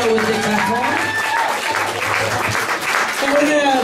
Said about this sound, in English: And Imer, let's give him a big hand of applause.